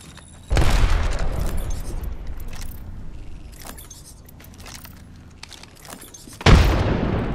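Two heavy booming frag grenade explosions in a video game, loud and close, one near the start and one near the end, with quieter game rumble and clicks between them.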